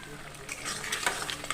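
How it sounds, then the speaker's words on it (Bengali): Potatoes frying in poppy seed paste with a little sugar, stirred in a pan, giving a short close burst of sizzling and scraping with no talk. "এটাকে ভালো করে কষিয়ে নেব"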